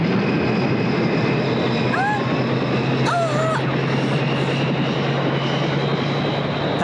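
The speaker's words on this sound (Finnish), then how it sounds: "Käynnistä moottori." A cartoon aircraft engine drones steadily and loudly throughout, a constant mechanical hum with a couple of brief whistling tones on top.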